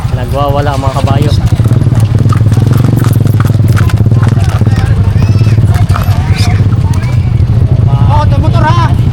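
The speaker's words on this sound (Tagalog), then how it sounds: "Nagwawala ang mga kabayo." Racing horses galloping at a horse race in Lucban, a loud, continuous rumble of hooves under excited talk and crowd voices, with engine noise mixed in nearby.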